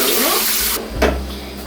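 Water pouring from a container into a salad spinner bowl for holiday punch, a loud, steady splashing stream that stops abruptly, followed by a brief slosh and dripping.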